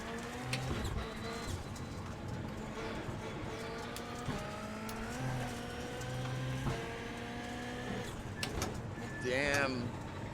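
Rallycross race cars in iRacing at Phoenix launch off the start line together. Several engines rev and climb in pitch, with occasional sharp knocks, while a person talks over the racket.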